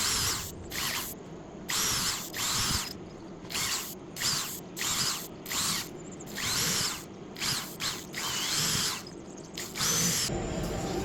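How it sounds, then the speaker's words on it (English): An old, worn power drill bores into wood in repeated loud whirring bursts of one to two seconds each, separated by short pauses. The bursts run on steadily, and the motor hum is close and strong. "Then I get out my crusty, trusty drill and I start drilling."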